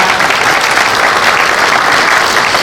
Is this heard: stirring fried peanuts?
no